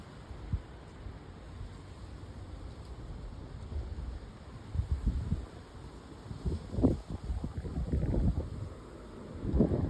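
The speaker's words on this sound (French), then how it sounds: "Terrible vent de sud-ouest." Strong southwest wind during a thunderstorm in Gironde roars and buffets the microphone in uneven gusts, with low rumbling bursts growing louder toward the end.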